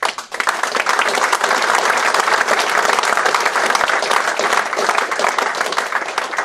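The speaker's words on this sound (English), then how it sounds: "I'd like to offer the applause to you guys as well." Applause at a Queen's Award for Voluntary Service presentation for Glentoran Football Club, with a crowd clapping densely and steadily at full strength from start to finish.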